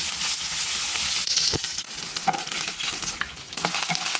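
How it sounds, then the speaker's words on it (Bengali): Battered banana flower florets and potato pieces frying in hot oil, a steady close sizzle with occasional stirring clatter and spatter pops, no voices. "এবার আমি মোচার কলিগুলোকে ব্যাটারে চুবিয়ে গরম তেলে ভেজে নেব।"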